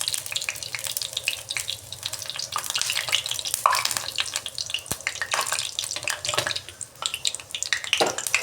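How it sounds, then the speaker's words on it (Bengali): A batter-coated fritter of ash gourd stuffed with filling sizzles steadily in hot oil, with a continuous bubbling crackle and occasional clinks as it is turned. No one speaks. "বারবার উল্টে পাল্টে এইভাবে লাল লাল করে বেজে নিয়েছি"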